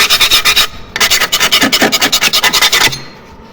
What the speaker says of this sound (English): This is my old putty knife, but I find it's really good for scraping.